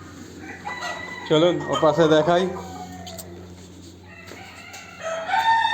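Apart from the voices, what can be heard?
chickens clucking and crowing in a garden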